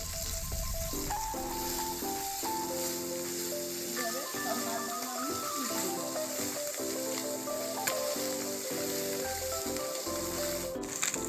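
Puti fish frying in oil in a pan, giving a steady, fairly loud sizzle that runs throughout, with tonal sounds layered over it.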